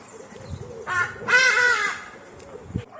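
A bird calls on a residential street in Johannesburg, a few harsh, crow-like caws close by, standing out over quiet street background with no talk.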